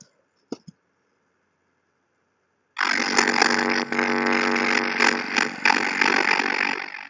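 After a couple of faint clicks and near silence, a harsh, loud distorted buzzing blast kicks in and grinds on with crackly, glitchy fluctuations.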